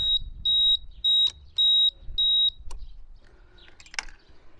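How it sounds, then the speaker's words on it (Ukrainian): A high-pitched motorcycle turn-signal buzzer beeps four times in a steady on-off rhythm, followed by a few clicks and faint rustling. "Ще зумер поворотів."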